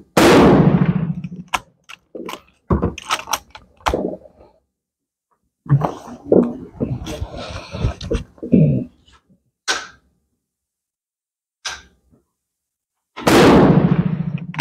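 Arisaka Type 38 rifle in 6.5x50 caliber firing outdoors, sharp loud reports spaced several seconds apart, each followed by a brief decay, with quieter handling noises in between.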